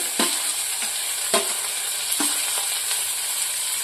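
Green garlic and green onion, both white and green parts, hit hot oil in a pan and sizzle loudly. A few clinks from a stirring spoon sit close over the steady hiss.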